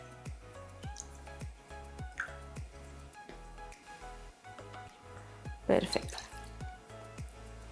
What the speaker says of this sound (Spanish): Vamos a añadirle medio vasito de agua más.